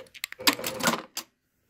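Domestic sewing machine back stitching to lock the end of a linen shift seam, a quick cluster of mechanical stitching bursts followed by one short final burst, close and fairly quiet, with no talking.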